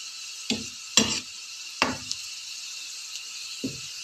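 Onions frying in a pan, heard as a few sharp scraping stirs at irregular intervals over a quiet, constant sizzle.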